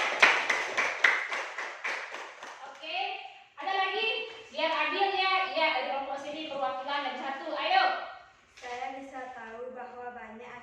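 A short burst of hand clapping in a school science classroom opens the clip. Sharp, fairly loud claps fill the first few seconds, then children's voices take over and continue to the end.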